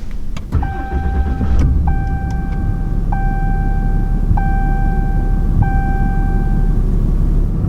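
A diesel engine in a 2022 RAM 2500 HD cranks and catches close up, then settles into a steady rumbling idle while a chime repeats at an even pace about five times over it.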